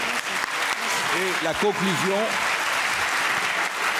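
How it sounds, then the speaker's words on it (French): Applause from an audience at a formal French conference on Australia and the sea rolls on steadily as a broad wash of clapping, while someone speaks briefly over it. "Vous avez applaudi une première fois, Madame l'ambassadrice."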